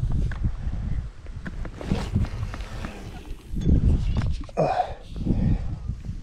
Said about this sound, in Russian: ветер, к сожалению, усиливается